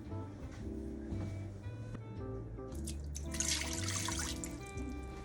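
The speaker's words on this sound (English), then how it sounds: "then we're going to add 1 cup of water" Water splashes and trickles steadily into the metal pot of an Instant Pot pressure cooker with a trivet inside, a continuous one-cup pour with faint background hum and clinking.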